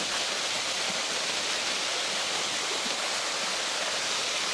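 Strong flowing water of a tall waterfall in Alfonso, Cavite, a loud, continuous broadband roar with no breaks and no voices.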